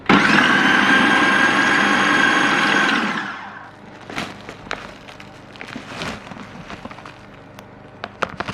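A stand mixer runs loud and steady while whisking eggs for carrot cake batter, then shuts off, leaving scattered clinks and handling noises.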